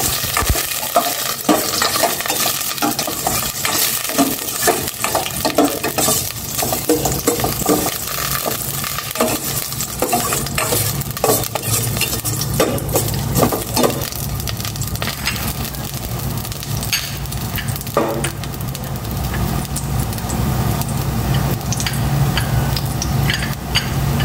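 Ginger sautéing in a little cooking oil in a pan, a loud continuous sizzle broken by frequent scraping stirs, close and steady throughout.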